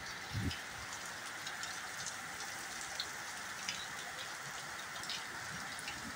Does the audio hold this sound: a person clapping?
no